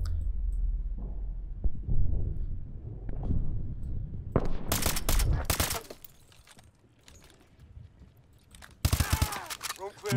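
Gunfire in the video game Call of Duty Advanced Warfare: loud bursts of automatic fire arrive in two clusters, one mid-clip and one near the end, with a voice talking over the earlier part.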